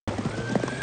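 Horses gallop after a semi truck in a film about men hauling explosive cargo, their hooves clip-clopping in a quick, steady rhythm with a whinny over a continuous low rumble, close and fairly loud through a brief moment.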